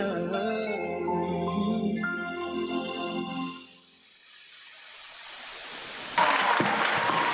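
At a primary school graduation ceremony, singing gives way to a hiss of crowd noise, then a loud burst of audience applause rises near the end.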